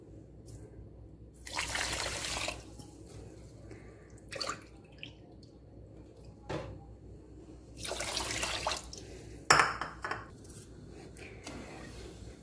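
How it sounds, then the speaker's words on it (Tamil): Water is poured from a cup into sugar for gulab jamun syrup, several separate pours each lasting about a second, heard as close, splashy bursts with quiet gaps between them. "இதில் இதே சேம் கப்பில் 2 கப்பு தண்ணி ஊற்ற போகிறோம்."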